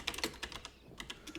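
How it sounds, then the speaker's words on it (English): Fast typing on a computer keyboard sounds close and quiet, with a quick, uneven patter of light key clicks and a brief lull midway; no one speaks. "I'm typing real quick"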